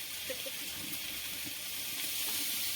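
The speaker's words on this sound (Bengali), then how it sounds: "জলটা এর মধ্যে দিয়ে দিলাম" Water poured into a pan of frying spinach and prawn masala gives a steady, close rushing hiss that holds evenly for a few seconds, with no voices.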